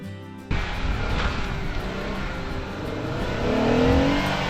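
An off-road vehicle stuck in snow on a Pratt Creek trail revs hard and steadily. The engine note climbs and strains as it tries to drive out, loud and close, with no talk over it.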